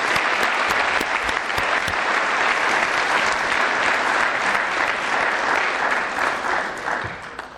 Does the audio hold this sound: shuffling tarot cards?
no